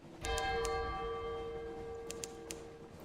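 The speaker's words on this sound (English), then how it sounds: "Distant bells." Distant bells in the video game Sunless Sea toll a few times over a sustained ringing tone, clear but soft, with no one talking.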